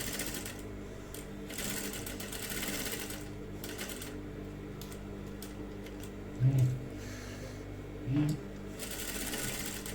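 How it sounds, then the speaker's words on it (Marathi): A sewing machine double-stitches a blouse, giving a steady, close mechanical whirring and rattling run with brief louder clunks, and a voice speaks in between. "डबल स्टिच देणार आहोत."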